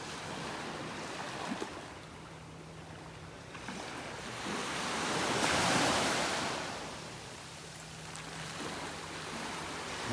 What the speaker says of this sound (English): The waves are starting to come up and pull the shells back into the water here.